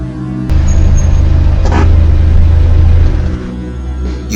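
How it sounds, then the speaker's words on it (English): A car rolls up outside and comes to a stop, its engine a steady low rumble that swells after a brief pause and then eases off, with no voices over it. "Car stopping in front."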